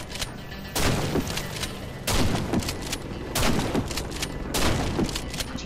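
A medic's shotgun fires in the video game Warface, with four loud, evenly spaced booming blasts and dense game noise filling the gaps between them.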